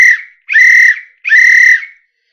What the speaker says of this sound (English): 3 whistles